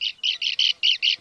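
Western sandpipers call on the Stikine River mudflats during spring migration, giving six sharp, high squawking notes in quick succession, loud and close with short gaps between them.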